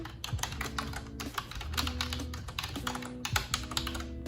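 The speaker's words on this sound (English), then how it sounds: "this keyboard I've had for such a long time." A Logitech keyboard once used with an iPad is typed on in a fast, continuous patter of close, crisp key clicks with a few brief pauses.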